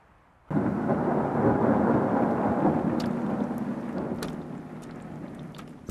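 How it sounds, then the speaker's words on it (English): A sudden wash of steady rain starts after a brief silence on the Hungarian Puszta, a dense hiss with scattered sharper drops and a low rumble underneath. "The rain begins reluctantly, with no sign of the coming cloudburst."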